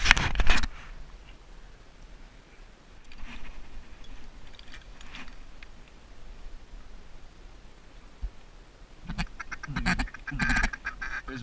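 Ducks quack during a Wisconsin duck hunt, a drake among them, with faint scattered calls over a hushed outdoor background and a louder burst of quacking near the end.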